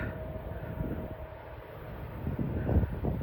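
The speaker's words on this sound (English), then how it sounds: "here's the Norfolk Southern H95 at New York City branch at Steamboat Boulevard" Norfolk Southern H95 freight train on the New York City branch at Steamboat Boulevard, Manchester, Pennsylvania, rumbles as it approaches, a low rolling drone with a faint horn-like tone and wind buffeting the microphone, growing louder toward the end.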